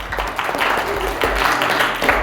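Short burst of applause from an audience at a magic show, close, loud clapping with a few sharp individual claps standing out.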